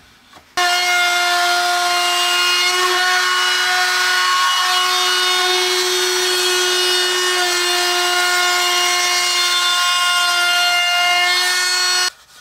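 A wood router cutting a quarter-inch roundover on chair edges whines at a steady high pitch for about twelve seconds, starting abruptly and stopping sharply, loud and close with no talking.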